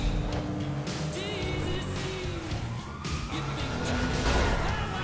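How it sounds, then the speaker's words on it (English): A wailing police siren sweeps up and down in GTA V during a street race, mixed with rumbling car engines and game noise, loud and continuous throughout. "I hear the siren behind me."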